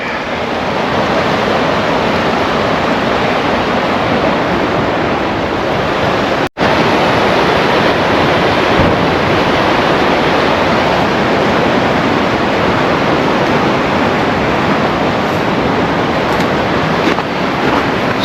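An angry river rushing loudly and continuously, a dense broadband roar of churning water heard up close and alone, broken only by a single brief dropout.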